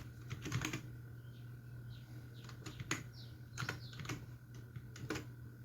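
Someone types HTML code on a computer keyboard, tapping keys in short clusters and single strokes. The typing is soft and close, over a steady low hum, with no talking.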